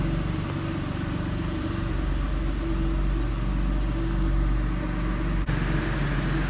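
A Porsche 911 (996) flat-six engine idles steadily after winter storage, an even, continuous mechanical hum heard close by without speech, with one brief click near the end.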